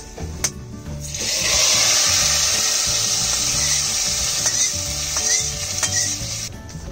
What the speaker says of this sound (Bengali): এবার ফোড়নটা দিয়ে দেব, হাঁড়ির মধ্যেই ঢেলে দেব।